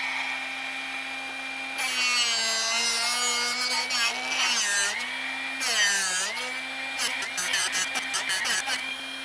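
A Drill Doctor bit sharpener runs with a steady motor whine while a drill bit grinds against its wheel in uneven bursts, and the pitch dips and rises as the bit is turned.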